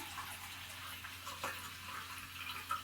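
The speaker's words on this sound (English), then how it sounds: "basically, it's going to be some seltzer water. Pour in here." Seltzer water poured into a pitcher, a soft steady hiss and trickle of fizzy liquid running for a few seconds at moderate distance, with faint clinks.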